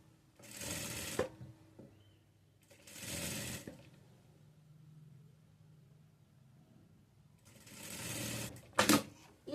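A sewing machine stitches a frock nighty in three bursts of a few seconds each, running steady and close, with quiet pauses between runs and a sharp clatter near the end.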